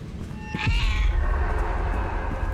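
Cat in a video game gives one clear, drawn-out meow, close and moderately loud over a low steady background hum, with no talking.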